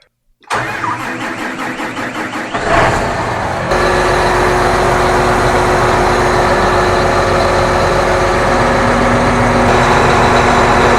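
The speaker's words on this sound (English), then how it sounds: "I'm going to go ahead and try and start the tractor." A tractor engine cranks briefly, then catches and settles into a steady, loud idle that runs on alone without talk.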